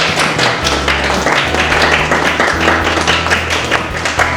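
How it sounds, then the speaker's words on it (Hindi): Crowd at an art workshop in Manali keeps up sustained applause, a thick wash of many hands clapping with tapping peaks over a low background hum, steady and near. "तालियां रुकनी नहीं चाहिए,"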